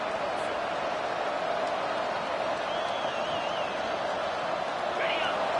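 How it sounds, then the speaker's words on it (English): A steady, dense roar from a football stadium crowd cheering at an LSU game, constant and unbroken, heard from a distance with no single loud peak. "And this crowd coming to life here, trying to help the defense get a stop"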